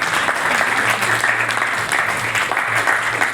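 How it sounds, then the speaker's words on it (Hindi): Loud, continuous applause from an audience at a talent show for disabled performers, dense clapping filling the whole stretch with a faint crowd murmur and a low hum underneath. "और एक बात जोरदार तालियां।"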